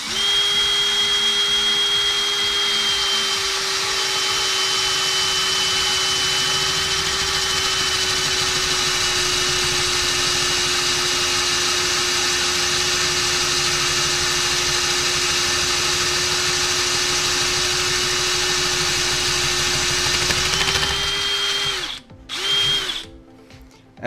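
A cutter on low speed bores an engine head for valve seals on a 440 build, whining loudly and steadily for about twenty seconds before winding down with a brief chatter as it nears the stop.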